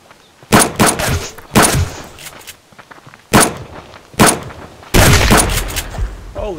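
Rifle gunfire in the survival video game Subsistence, five or six loud sharp shots and short bursts spaced irregularly, each ringing out near and dying away between blasts.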